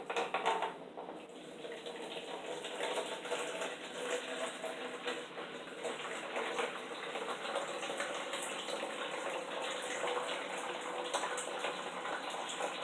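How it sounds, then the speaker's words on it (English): Brewed tea pours steadily into a jar for kombucha, a continuous splashing trickle, close and fairly quiet, with no voices. "So I'm going to pour the tea."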